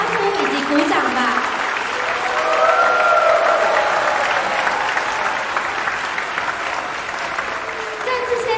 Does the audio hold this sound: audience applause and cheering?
yes